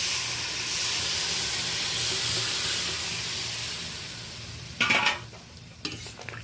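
Tamarind water goes into a pan of crabs frying in oil, giving a steady soft sizzle and hiss, then a couple of short sharp bursts of spatter and clatter near the end.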